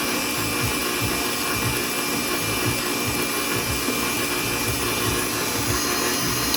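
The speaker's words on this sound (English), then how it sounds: "So let's get that mixed, scrape down the sides, and see how we go." An electric mixer runs continuously, a loud steady whir close by, while beating pumpkin cheesecake filling with sour cream; no one speaks.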